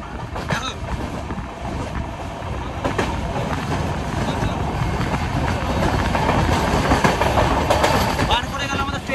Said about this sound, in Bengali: বন্ধুরা কাশিমবাজার রেলওয়ে স্টেশন আমাদের ট্রেন ক্রস করছে।